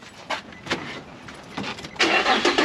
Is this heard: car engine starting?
yes